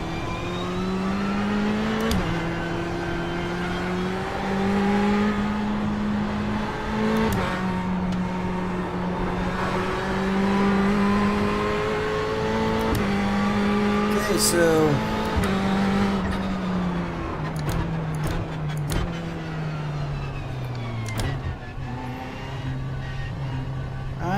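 A GTE race car in the iRacing sim holds a steady, loud engine drone, rising and falling through gear changes with brief shifts and tire noise, while a voice briefly speaks over it.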